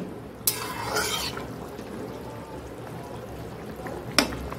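Egg curry gets a stir in a pan over low heat, a faint bubbling simmer with two sharp scraping stirs, one near the start and one near the end, close and without voices.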